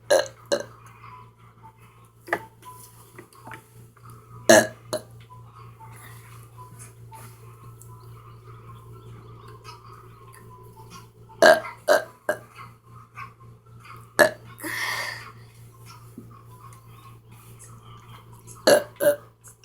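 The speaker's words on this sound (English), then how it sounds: "40 small burps I could do in 1 minute" Small burps during a timed one-minute burping challenge. They come in sharp, scattered bursts over a steady low hum, separated by gaps of quiet breathing and faint background noise.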